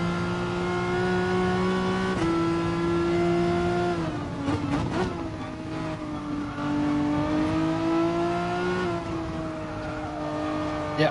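A race car engine in a racing video game revs loud and close, climbing in pitch, dropping sharply at a gear change or braking point, then building again through a lap.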